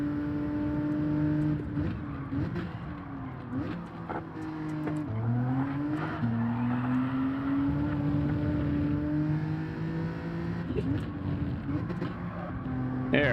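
A race car in Gran Turismo 7 revs hard with a steady, sustained engine drone, climbing into the rev limiter with stuttering pitch shifts as gears change. The engine stays loud and continuous throughout, with no voices.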